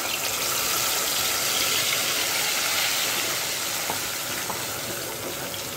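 Tomato paste hits cumin seeds in hot ghee, producing a loud, dense, steady sizzle and crackle that fades slightly toward the end.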